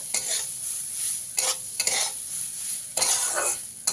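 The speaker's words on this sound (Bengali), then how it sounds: "ডালগুলোকে আমি হালকা করে ভেজে নেব তার জন্য ডালগুলো কড়াইয়ের মধ্যে দিয়ে দিচ্ছি" Red lentils are stirred and lightly fried in a wok, with repeated scraping strokes of a spatula over a soft, steady sizzle, close and clear.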